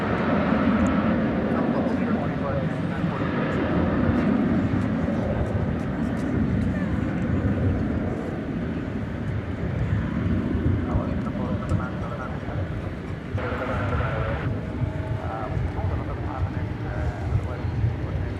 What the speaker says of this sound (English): on the left at Kalita Air Flight 816 going to Cincinnati, and on the right, Singapore Airlines cargo going to Brussels